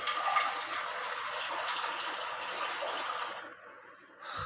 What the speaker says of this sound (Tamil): நம்ம கொஞ்சம் தண்ணி ஆட் பண்ணிக்கலாம்.